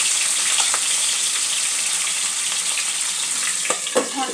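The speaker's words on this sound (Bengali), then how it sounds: "মাছগুলো এপিট ওপিট করে খুব ভালো করে ভেজে নিতে হবে।" Bhetki fish frying in hot oil in a pan, a loud, steady hissing sizzle that carries on throughout, with a couple of soft clatters near the end, likely from turning the pieces.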